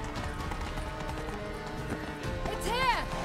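Horse hooves clatter at a gallop in the Witcher 3 Blood and Wine game, a steady clip-clop running under game music and a voice, with a brief whinny-like rise near the end.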